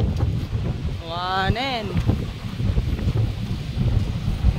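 Strong wind roars and buffets the microphone outdoors during a violent storm, loud and constant, with a brief voice calling out partway through.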